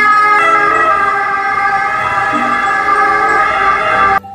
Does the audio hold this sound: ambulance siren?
yes